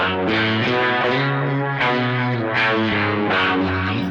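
Electric guitar through a uni-vibe effect on a Sonicake Matribox II, with a rich, pulsing modulation, sustained chords shifting every second or so, with a warm, swirling movement throughout.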